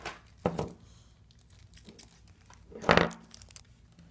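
Blind box toy packaging for a Kidrobot Simpsons figure gets torn and crinkled open, with two sharper ripping bursts separated by quieter rustling, close and fairly soft.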